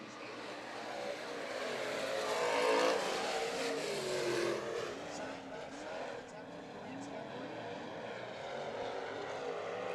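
Race cars roar down the back straightaway during heat races at Kern Raceway, a loud engine drone rising and passing, then fading slightly, with a commentator talking over it.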